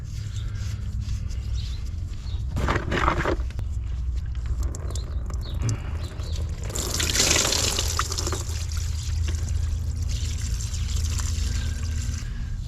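Old churned diesel mixed with gear oil draining from a 1955 Fordson Major diesel tractor, a steady liquid trickle and pour with splashy surges midway, close, no talk.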